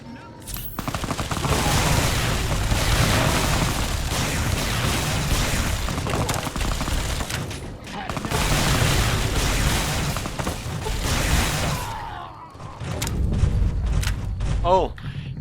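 Loud bursts of explosive gunfire and booms in Fallout: New Vegas, two long dense barrages separated by a brief lull, with a voice speaking over the noise.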